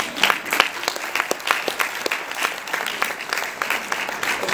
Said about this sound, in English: I just want to applaud you.